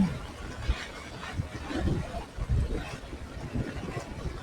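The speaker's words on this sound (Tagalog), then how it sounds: "Oh, lakas ng hangin, lakas ng ulan." Strong wind rumbles and buffets steadily outdoors during flooding in San Fernando, Pampanga, with a broad hiss of rain mixed in, moderately loud and continuous.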